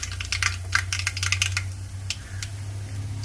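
Mustard seeds popping in hot oil, quick irregular bursts of sharp close crackles that thin out toward the end, over a low steady hum.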